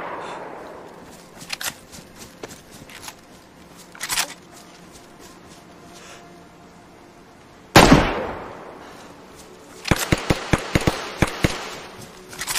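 Gunshots crack in a zombie shooter video game: scattered single shots, one loud blast, then a quick rapid string of sharp reports near the end.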